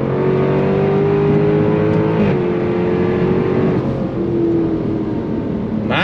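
A 2024 Jaguar F-Type R 75 accelerating with a loud, steady engine drone that steps in pitch at quick gear shifts, then a sharp revving surge at the end, heard from inside the car.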